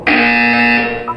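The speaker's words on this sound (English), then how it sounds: "When you hear the buzzer, look down at the floor." A steady electronic buzzer from the video game Portal 2 sounds loud and continuous, holding one harmonic-rich tone for about a second before briefly breaking off near the end.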